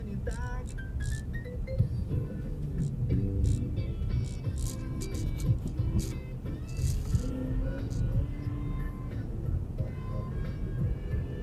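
A car drives through the city streets of Tyumen, a steady low engine and road rumble close inside the cabin with a few small rattles and clinks, and a voice speaks over it.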